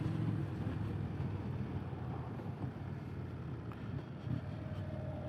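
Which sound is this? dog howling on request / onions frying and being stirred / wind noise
wind noise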